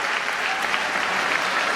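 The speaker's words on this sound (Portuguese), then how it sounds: "Pode aplaudir a Ele" A church congregation applauds, a continuous wash of many hands clapping at a steady, even level throughout.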